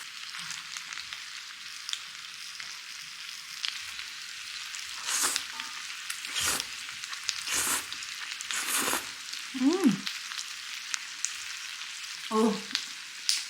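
Vegetable gopchang (beef intestines) sizzles steadily in a hot pan, with louder scraping bursts as it is stirred, the frying hiss continuous throughout and no talk.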